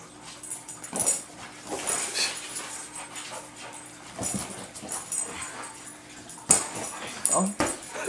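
A Vietnamese dog whimpers and yips in short bursts during play, with panting and people talking nearby.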